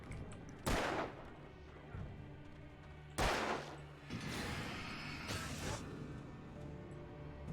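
Gunfire in the Alan Wake video game, with two sharp, loud shot bursts standing out above a steady background of game sound and no talk.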